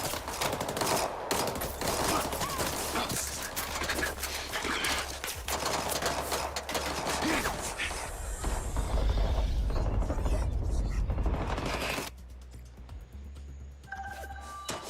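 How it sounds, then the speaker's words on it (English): Bursts of rapid gunfire crackle in the action game MindsEye, a dense fusillade of shots for about eight seconds that thins out, followed by quieter electronic beeps and tones near the end. "Rigby, I've been spotted. I'm taking fire."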